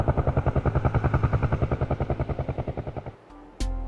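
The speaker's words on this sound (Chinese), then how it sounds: "可以感受到那直升机绕着。" Rapid rhythmic rotor chop from a Razer Kraken 7.1 V2 headset surround test helicopter pulses steadily and fades slightly before cutting off, followed by a short click.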